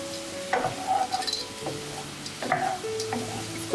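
Sliced apples with maple syrup are stirred as they caramelize in a hot pan, with a steady sizzle and several soft scraping strokes of the utensil against the pan, close and with no voices.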